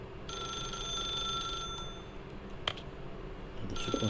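A telephone rings in The Stanley Parable, a bright electronic trill that repeats in bursts, clear and fairly close, with a short pause midway before the ringing resumes.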